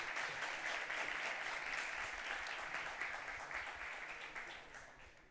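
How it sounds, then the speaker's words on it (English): Sustained applause from a game industry conference audience, steady and dense at first, then gradually tapering off. "Please, huge round of applause for her."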